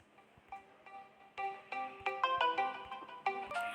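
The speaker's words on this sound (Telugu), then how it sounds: "యాడ్ కాదు, ఫోన్ వచ్చింది." A phone rings for an incoming call: a melodic ringtone of repeated bright tones, fairly faint and playing alone.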